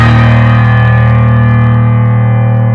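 A sustained chord from the grand piano voice of a Williams Allegro IV digital piano rings out loud and full, its low notes booming, then slowly decays with no other sounds.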